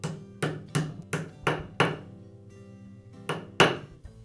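A hammer taps a socket pressed against the inner race of a ball bearing (607LLB), seating it on the armature of a Makita angle grinder. There are about seven sharp metallic knocks, close and uneven, with a pause in the middle and no talking.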